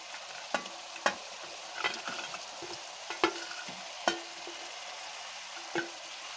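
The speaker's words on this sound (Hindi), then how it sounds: "अब हम इसमें ऐड करेंगे चिकन जो हमने फ्राई करके रखा है।" Pre-fried chicken tipped into a pan for Kashmiri methi kokur with fenugreek leaves and stirred, a low sizzle under sharp spoon scrapes and knocks against the pan at irregular intervals, close up and without talk.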